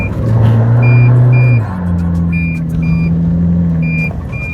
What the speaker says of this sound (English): So let's see how it goes up this hill.